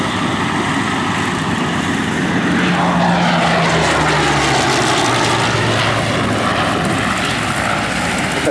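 A WW2 fighter aircraft arriving at an Old Warden airshow, its piston propeller engine droning loudly and steadily throughout, the pitch shifting slightly as it passes overhead.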